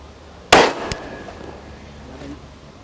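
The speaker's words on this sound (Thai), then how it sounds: "น้ำอิงจะลองปืนสั้นนะคะ ยิงบ้างนะคะ ใช้ตัวนี้เลย ก๊อกนะคะ 9 มม นะคะ" A single sharp shot from a Glock 9 mm pistol rings out at a shooting range, with a fainter second crack just after and a short echoing decay, and no talk over it.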